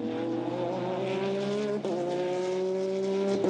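Race cars, including a Porsche 997, lap a 2.8 km circuit during a 12-hour endurance race, a loud engine note droning with a sharp shift midway and rising again.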